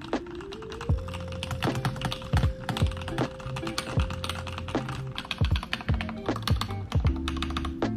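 Mechanical keyboard fitted with Gateron Yellow Pro switches and a Boba U4T spacebar switch, typed on steadily and up close: dense, rapid clacking keystrokes with occasional heavier thocks, over a faint low background hum.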